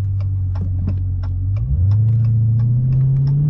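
A car idles through an X-pipe exhaust with a steady, deep rumbling drone, and a faint repeated ticking sits over the top. Partway through, the pitch rises slightly and holds, still close and fairly loud.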